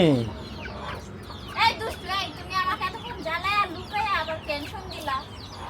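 A chicken clucks in bursts on a rooftop, near and moderately loud, with a voice and other voices talking over it.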